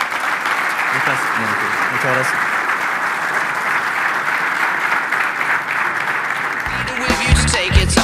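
An audience at a sports management talk gives sustained, steady applause, a dense even wash of clapping that continues for several seconds, with someone speaking briefly over it near the end.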